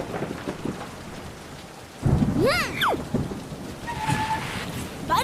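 Cartoon rain pours steadily, then a loud thunderclap cracks in at about two seconds and rumbles on, with a rising cartoon whistle-like effect and a faint tone afterward, no voices.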